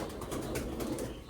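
Pigeons in a loft, including fancy breeds such as Baghdadi, give soft cooing and rustling with a flutter of wings, a close, murmuring, busy texture without speech.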